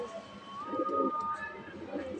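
Pigeons coo softly in a low, rolling murmur, a few birds close by with faint background noise and no talking.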